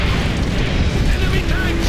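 Tank cannon fire in the World War II game World at War, a loud, close, booming roar of heavy blasts and battle noise that fills the whole moment.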